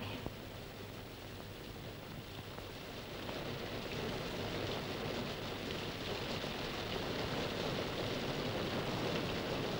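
Heavy rain pouring steadily in a 1954 Hindi film scene, a dense continuous hiss and patter that swells slightly louder partway through, with no voices.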